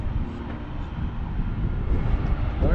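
A fixed-wing airplane coming in to land at Southwest Florida International Airport, heard from a public viewing area as a steady, loud, low engine roar that holds throughout and swells slightly near the end.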